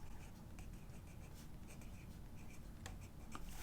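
A Tombow pen writes in a bullet journal, making faint close scratching and tapping strokes in short irregular bursts against quiet room hiss, with no voice.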